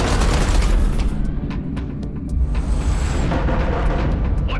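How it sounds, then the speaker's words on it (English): Heavy artillery fire in the space shooter Everspace 2: loud, continuous rumbling booms and explosions with sharp crackling impacts throughout. "Eduardo, concentrate artillery fire on Blakemore's carrier"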